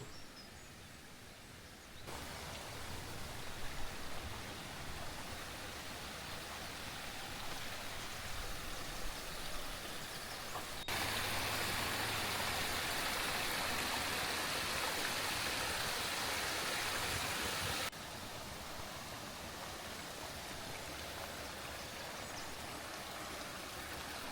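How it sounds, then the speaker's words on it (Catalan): Steady rushing water from a mountain stream in autumn at Vallcàrquera, continuous and fairly close, growing louder and brighter partway through before settling back; no voices. "El soroll de la riera ens acompanya des del primer moment"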